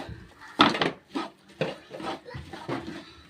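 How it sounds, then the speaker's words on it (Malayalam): A wooden spatula stirs masala powder into beef in a pan, making a series of rhythmic, close scraping and knocking strokes at a moderate level with no talk over them. "ഇനി നമുക്കിത് നന്നായിട്ടൊന്ന് ഇളക്കാം."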